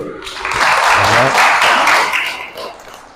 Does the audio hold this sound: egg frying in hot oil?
no